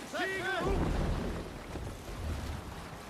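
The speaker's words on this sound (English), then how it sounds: "Oh, this storm's picking up. Getting some really choppy waves." Stormy sea rumbles around a sailing boat in a video game, a deep rolling roar of wind and choppy waves, with someone talking briefly over the start.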